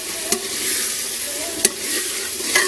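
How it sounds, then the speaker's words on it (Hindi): Quail meat frying in a pan with a steady sizzle, broken by a few sharp scrapes of stirring spaced about a second apart, close up with no voices. "मैं इसको 2 मिनट से 3 मिनट भूनूंगी"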